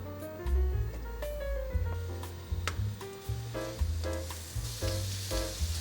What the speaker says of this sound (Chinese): 把杏鲍菇放进来煎，